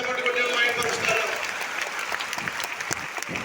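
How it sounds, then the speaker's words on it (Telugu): Loud, sustained clapping from a congregation at a New Year's church service, dense and continuous throughout with a faint voice over it. "గట్టిగా చప్పట్లు కొట్టి మహిమపరుస్తారా?"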